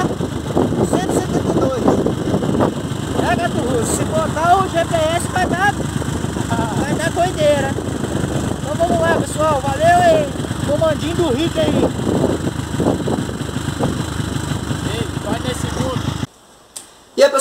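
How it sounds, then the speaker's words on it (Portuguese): A motorcycle engine screaming during a top speed run at around 272, with a dense sustained roar and rising and falling whine, loud and close, ending with an abrupt drop near the end. "vocês curtiram aí o videozinho, né, do Top Speed na moto do Gato Russo com o comando do Rick."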